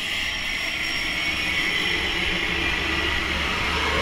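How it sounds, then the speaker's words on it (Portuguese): A skydiving jump plane arrives at the drop zone, its engine a loud, steady, unbroken roar throughout. "Olha o avião chegando."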